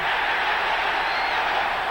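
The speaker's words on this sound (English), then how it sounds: "Crowd into this now." A stadium crowd roars steadily and loudly at a 1988 NFL game between the Phoenix Cardinals and the LA Rams, a dense, unbroken wall of cheering with no clear voice standing out.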